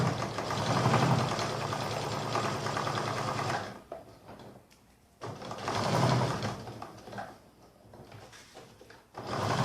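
A sewing machine stitches all the way around a layered fabric coaster, running in two close bursts of rapid rhythmic whirring separated by a brief near-silent pause.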